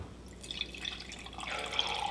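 Milk is poured into a Nespresso Aeroccino frother up to the minimum line, a soft, steady liquid trickle heard close up and fairly quiet.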